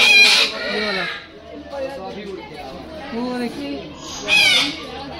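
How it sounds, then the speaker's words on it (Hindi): A black rooster at a Delhi zoo lets out bright, harsh calls near the start and again near the end, over steady background chatter and someone talking. "देखो ये है काला मुर्गा"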